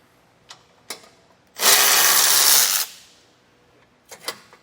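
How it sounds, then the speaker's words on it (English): Power ratchet backing bolts out of an Aries TrailChaser front bumper: a loud, steady mechanical whir lasting about a second, with a few sharp clicks and knocks before and after. "Now we'll just come back in with our power ratchet and back those all the way out."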